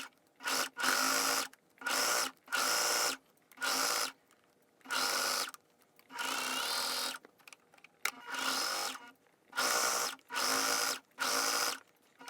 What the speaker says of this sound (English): I'm going to actually take it to my serger and I'm going to serge the edges of it